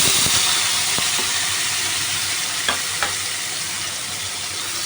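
Tomato added to hot oil seasoned with asafoetida fries and sizzles steadily in a pan for a paneer kofta curry, with a couple of sharp clicks of stirring, close and continuous, no talking.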